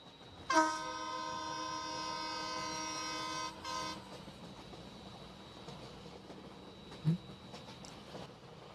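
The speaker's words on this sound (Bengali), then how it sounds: "এটা তো ট্রেনের শব্দ" A train horn blares for about three seconds on a village railway line at night, then a low rumbling passage of the train carries on faintly, with one brief thump near the end.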